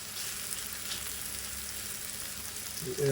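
Onions sizzle steadily in a hot pan as the base for a chicken tikka paneer curry, a close, even frying hiss with a brief clatter near the end.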